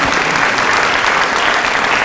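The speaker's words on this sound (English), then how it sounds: "Quick round of applause for those answers." Loud, dense audience applause at a Seattle City Council district candidate forum, a sustained close wash of clapping from a crowd with no speech on top.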